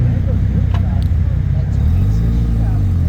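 A Mazda RX-7 car pulls up at a Tokyo night car meet, its engine a steady low rumble with mid-range revving swells, heard close and continuous under a background of crowd chatter.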